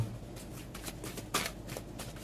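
A deck of tarot cards is shuffled by hand, giving soft papery riffles and flutters in a few short bursts, close and fairly quiet, with no talking over it.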